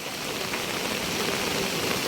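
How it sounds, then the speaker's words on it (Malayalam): Steady, dense monsoon rain pours down in a constant broadband hiss with no pauses, fairly soft overall and free of voices. "ഇത് ഭയങ്കരം തന്നെയാണ് ഇന്നത്തെ മഴ"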